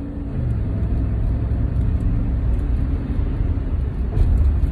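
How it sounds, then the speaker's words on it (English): Steady road traffic heard at close range, a continuous low rumble of passing cars with engine whir and a slight swell near the end, with no voices. "It's traffic."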